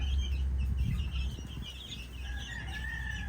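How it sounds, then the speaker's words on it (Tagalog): Baby chicks on a farm peep in thin, high-pitched chirps that run over a dense, steady background of low rumble and hiss, with no voices. "Mahirap mag-alaga ng mga sisiw, mga ka-chicks."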